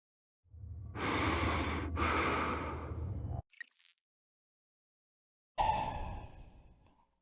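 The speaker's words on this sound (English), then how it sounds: "You can even hear the dude breathing." A character breathing in the Prey video game: two long, heavy breaths up close, then a short rustle, a pause and another breathy exhale, heard alone without talk.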